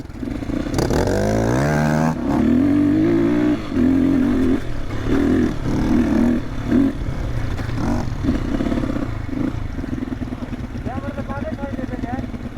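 A motorcycle descends a steep downhill road on an adventure ride through hilly south Lalitpur, Nepal. The engine drones close and loud throughout, its pitch rising and falling with repeated revving and easing of the throttle.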